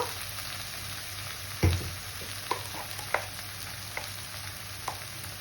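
Spice paste for palak paneer frying steadily in a pan, a continuous soft sizzle with a handful of sharp spoon scrapes and taps scattered through it, close and fairly quiet, with no talking.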